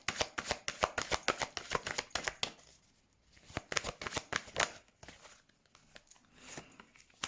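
Tarot cards are shuffled by hand at close range in rapid, crisp riffling bursts, separated by brief pauses, with no talking.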